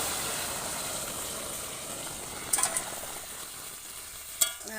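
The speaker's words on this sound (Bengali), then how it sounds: "একটু তেজপাতা, শুকনো লঙ্কা ফোড়ন দিলাম, ডালটা সম্বার দিয়ে নিলাম" Bay leaf and dry red chilli crackle in hot oil in a heated karai before dal goes in, giving a steady sizzle with a few sharp splattering pops.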